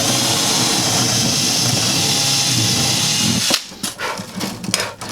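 A power drill with a roughly 3 mm bit whirs steadily and loudly for several seconds into an acoustic guitar for a piezo pickup, then cuts out, followed by clattering handling noises close by.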